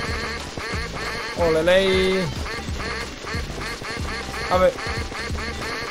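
Cartoonish duck quacks from a shooting video game come loud and close, one long nasal quack and a later shorter one among rapid clicking game sounds, with someone talking over them.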